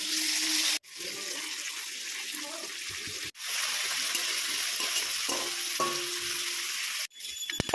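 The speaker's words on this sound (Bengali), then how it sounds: "লঙ্কার গুঁড়ো যোগ করে জল দিয়ে একটু ফুটতে দিতে হবে একে একে মাছগুলো দিয়ে দিতে হবে" Water and pieces of rohu fish go into a simmering rohu curry spiced with chilli powder. A loud, steady sizzle and bubbling hiss is broken by a few abrupt cuts, with faint kitchen clinks underneath.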